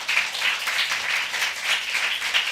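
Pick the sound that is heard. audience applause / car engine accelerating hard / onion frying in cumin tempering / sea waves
audience applause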